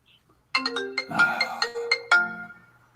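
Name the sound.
phone ringing with incoming call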